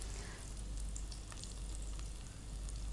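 Cashew-studded soya balls cooking in oil over a low flame give a soft, continuous bubbling sizzle with faint scattered pops, steady and fairly quiet over a low hum.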